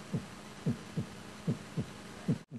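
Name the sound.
imitated heartbeat sound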